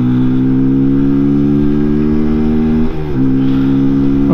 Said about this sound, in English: I'm going to go from a standstill, and I want to show you how much better this accelerates now it warms up